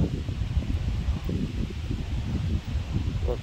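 Storm wind from a gust front during a violent thunderstorm near Grenoble in the Alps roars through a forest, a dense, low, buffeting rush that fills the whole stretch.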